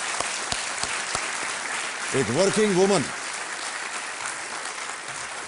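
Applause from a studio audience on the quiz show Kaun Banega Crorepati, a steady wash of clapping under a woman's speech and a brief musical sting.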